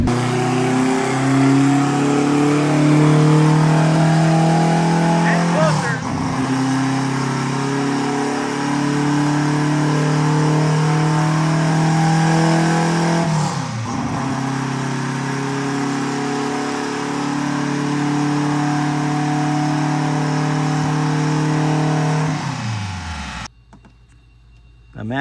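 A car engine fitted with dual injectors feeding one hole drones loudly and steadily, rising in pitch through three long accelerating pulls with brief drops between, then cutting off abruptly near the end.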